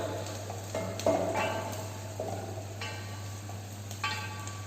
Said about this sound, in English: Saute garlic in golden brown color.